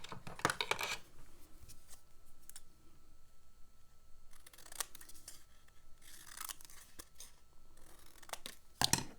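Scissors trim a white paper cutout for a card in several short close bursts of crisp snipping, separated by quiet pauses with faint handling noise.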